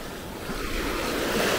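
Choppy ocean waves wash and churn along a rocky Okinawa coast where a rip current pulls offshore. The surf is a continuous close roar, mixed with buffeting wind noise.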